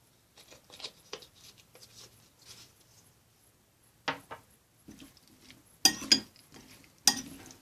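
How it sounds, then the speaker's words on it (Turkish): Cucumber salad being stirred with spices and black pepper in a bowl, a series of soft scraping and clinking strokes at close range, with a few sharper utensil knocks near the end and no talking. "güzel bir şekilde karıştırıyoruz"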